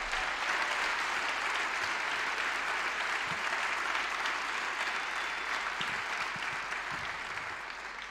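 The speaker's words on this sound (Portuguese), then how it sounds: "Mais uma salva de palmas para o Pedro Osório." An audience at a live one-man stage show gives sustained, even applause that carries steadily for several seconds before easing slightly at the end.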